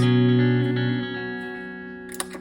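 Clean electric guitar through a Helix amp modeler with chiming, ringing notes and a soft effects shimmer, fading gradually after an opening strum.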